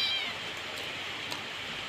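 A cat gives a short, faint meow at the start, then a steady rain-like hiss continues on its own without speech.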